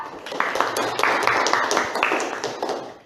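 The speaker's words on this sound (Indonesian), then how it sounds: "tepuk tangan untuk Zahra." A classroom group claps together in a burst of quick, uneven applause, fairly close, fading toward the end.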